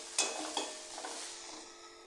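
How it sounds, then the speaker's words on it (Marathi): Onion and tomato sauté in a pan for a potato dish, a soft sizzle under a couple of quick spoon scrapes and taps against the pan. "हे छान असं परतून घेऊया."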